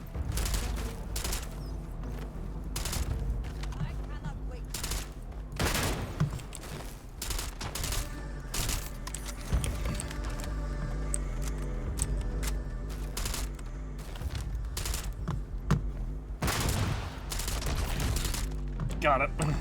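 Gunfire in the sci-fi video game Starfield, with rapid volleys of sharp shots and bursts scattered irregularly across the stretch over a steady game soundscape.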